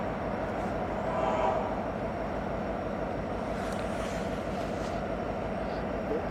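A BNSF diesel locomotive moves off after refueling, giving a low, steady rumble that sounds fairly distant and faint. There is no talk over it.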